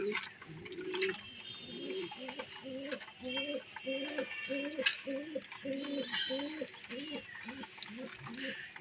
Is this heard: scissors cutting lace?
no